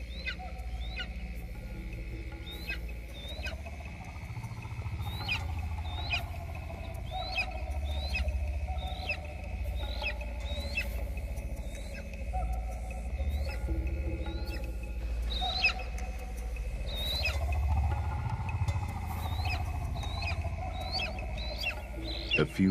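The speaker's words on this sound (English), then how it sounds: "The faint chirping means the juvenile hasn't moved." A juvenile bird chirps faintly at night in South Africa's Drakensberg mountains, short high peeps repeating at a steady pace over a low hum of night ambience.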